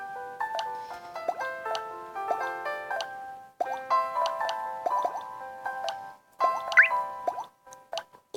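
Water dripping from a faucet in a mobile puzzle game: rapid, pitched plinking drops and squishy plops form a quick, melodic pattern, close and clear, with brief pauses between runs.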